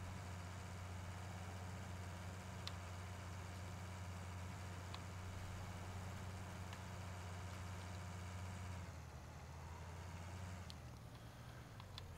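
A tractor engine drones at a steady low pitch while pulling a seeder across a field in France, continuous and fairly distant, easing slightly near the end.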